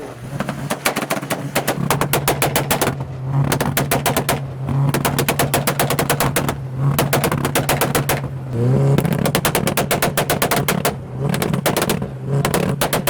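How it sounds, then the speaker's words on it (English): A diesel engine runs steadily with rhythmic clattering bursts that rise and pause every couple of seconds, loud and close, no talking. "Someone's doing some dieseling in the background. I can hear the dieseling."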